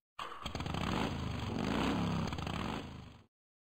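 A motorcycle engine roars steadily at close range for about three seconds, then cuts off abruptly into silence.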